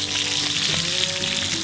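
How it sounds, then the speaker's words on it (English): Chops frying in a cast iron pan outdoors on a windy day, a steady close sizzle with crackling spits running unbroken, and no talk over it. "we'll carry on cooking these chops while I start to cook the other dishes"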